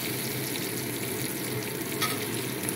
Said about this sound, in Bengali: দেখো ভাজা চলছে, চলো একটু লাল লাল করে ভেজে নিই